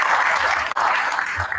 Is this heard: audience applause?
yes